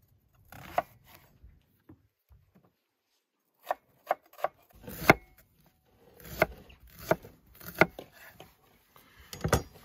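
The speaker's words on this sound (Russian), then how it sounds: "Нарежем лук полукольцами" A knife cutting onion into half rings on a board for marinated chicken drumsticks: scattered sharp chops, some single and some in quick bunches, with quiet gaps between them and no voices.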